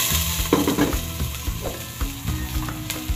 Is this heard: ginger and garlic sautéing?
yes